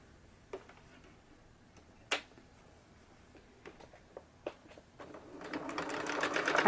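Sewing machine back stitching while making a fabric book page holder: scattered soft ticks and taps, then the motor running up in a rising whir at the end, faint and close.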